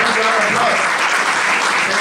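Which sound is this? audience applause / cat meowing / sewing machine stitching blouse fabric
audience applause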